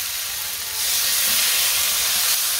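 Water poured into a frying curry sets off a loud, steady hiss of sizzling steam that swells after a moment and then holds, close up with no talk.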